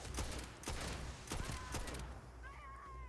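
Gunfire erupts in the space RPG Starfield, several sharp shots from a sniper rifle in quick succession over busy game ambience, followed by fainter electronic chirps.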